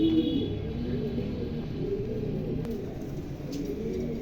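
A female Commonian pigeon, red or silver in colour, coos softly in low repeated phrases under steady background noise.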